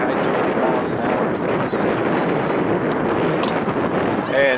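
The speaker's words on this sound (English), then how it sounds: "Wind's still blowing, probably high 20 miles an hour." Strong wind gusting at an outdoor baseball field, around 20 mph, a steady loud rumble and buffeting across the microphone throughout, with faint voices in the background.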